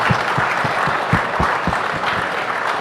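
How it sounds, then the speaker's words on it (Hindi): A hall audience at a felicitation ceremony for exam achievers applauds steadily, a dense wash of many hands clapping with a few louder, regular claps standing out near the front. "कि इनके लिए तालियां हो जाएं."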